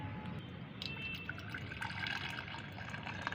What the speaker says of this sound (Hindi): अच्छी तरह से ठंडा होने के बाद इसे छान लेना है